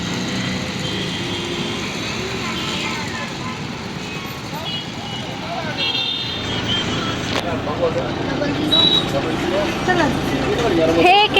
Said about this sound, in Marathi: full traffic jam